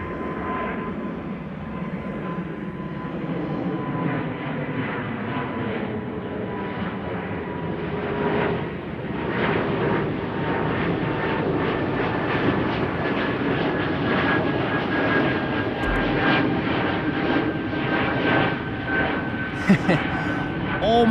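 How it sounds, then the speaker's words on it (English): A Swiss airliner departing Amsterdam Schiphol for Zurich roars loudly and steadily with a sustained engine whine threaded through the rumble, while a voice speaks over it at times. "Swiss to Zurich."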